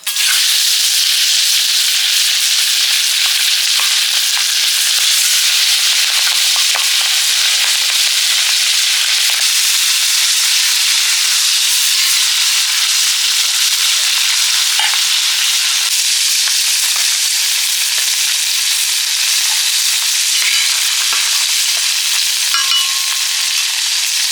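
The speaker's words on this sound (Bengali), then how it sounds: "তাওয়া গরম হয়ে গেছে এবার মাছগুলো ভেজে নেবো" Turmeric-coated fish frying on a hot tawa, a loud, dense, continuous hissing sizzle held close and unbroken for the whole stretch, with no voices.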